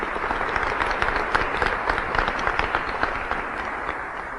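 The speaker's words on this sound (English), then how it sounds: "Give him one more round of applause." An audience applauds an honoree at a Cleveland LGBT Heritage Day celebration, a dense, steady burst of many hands clapping that stays loud and even from start to finish.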